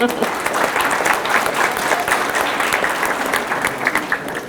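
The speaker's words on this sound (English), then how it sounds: "So please give yourselves a round of applause for that." Audience applause fills a room at a scholarship awards ceremony, a dense, steady wash of many hands clapping at once, loud and close, holding evenly for several seconds without a break.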